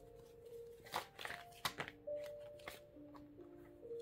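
Tarot cards being shuffled and handled close up: repeated crisp riffles and slaps of card stock with soft sliding and tapping between them, with no talking.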